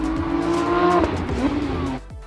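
A Porsche 911 GT3 race car entering a hairpin on a circuit, its loud engine note holding steady and then dropping, with tire squeal as it brakes into the tight turn.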